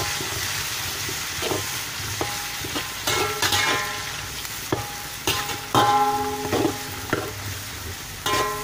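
Onions sizzle steadily in a hot pan while metal utensils scrape and clink as they are stirred, up close, with no talking.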